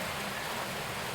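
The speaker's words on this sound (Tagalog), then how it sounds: "Ngayon, sobrang ulan guys, hindi makakapagtrabaho." Heavy rain falls as a steady, dense hiss with no breaks, fairly loud and close, with no voices over it.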